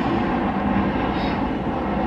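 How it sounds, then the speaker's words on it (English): An airplane flies overhead, producing a steady, loud, broad rumbling roar that holds evenly through the whole short stretch without any talking. "It's the airplane."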